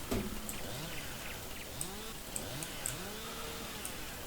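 Chainsaw revving and cutting wood in the Farming Simulator 19 forest, a buzzing two-stroke whine that rises and falls in repeated sweeps against a steady hiss of background noise.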